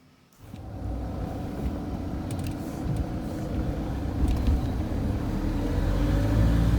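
A car starts and drives off in an enclosed basement parking area, a steady engine rumble rising gradually in level, with faint clicks near the start.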